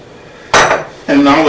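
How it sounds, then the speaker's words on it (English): Uncooked rice rinsed in a metal sieve under running water for saffron rice: two loud bursts of splashing and grains rattling against the mesh, close and without talk. "And now let's go ahead and let's rinse it."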